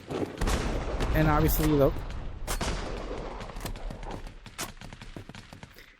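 Gunshots in the VR shooter Plastic Battlegrounds VR, a handful of sharp separate cracks spaced out over a few seconds, with someone talking between them.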